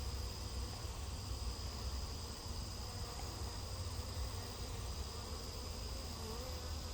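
A honeybee swarm hums steadily near a hive in July, a dense, continuous buzz of many bees holding at an even level throughout with no talking.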